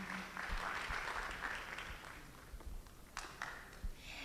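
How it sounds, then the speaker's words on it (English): An audience at an afternoon session of an online youth world camp applauds a speaker, dense steady clapping that fills the clip with a few louder individual claps near the end. "let's give her a big round of applause"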